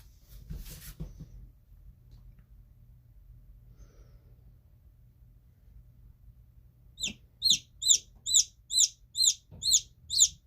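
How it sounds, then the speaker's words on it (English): A newly hatched chick cheeps in a rapid run of about eight loud, high, evenly spaced peeps near the end, after a brief rustle and a long quiet stretch with low background hum. "Oh, what a set of lungs you have on you. Listen to all of those little cheeps."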